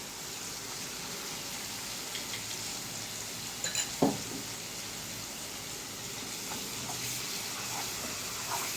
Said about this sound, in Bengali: দুইটা দিয়ে সামান্য পরিমাণ জল দিয়ে ভালো মতো কষিয়ে নিতে হবে